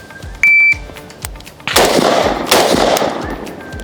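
A single electronic shot-timer beep sounds, then two sharp pistol gunshots follow, with quieter rapid shots continuing after, loud and close, at a shooting range drill.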